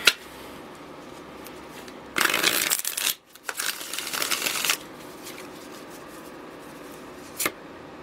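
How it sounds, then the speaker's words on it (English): Tarot cards riffle-shuffle close up in two loud bursts of rapid flicking and slapping, one long and one shorter, separated by a brief pause. A quick card snap follows later over quiet room tone. "One more shuffle."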